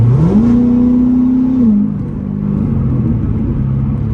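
A stock 2017 Corvette Stingray accelerates at night, engine note rising quickly and holding a strong steady drone before an upshift drops it to a lower cruising rumble, heard from inside the car.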